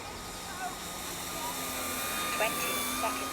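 A Dynam Mk I Hawker Hurricane RC model plane drones faintly and steadily in the distance during a landing approach, sitting beneath people talking outdoors.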